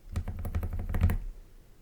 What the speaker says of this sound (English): we can make it sound better by putting the keys on it